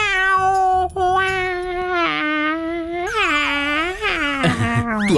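A voice imitates a cat, giving loud, close, drawn-out meows that rise and bend in pitch, in a scene from a Hindi-dubbed South Indian horror film.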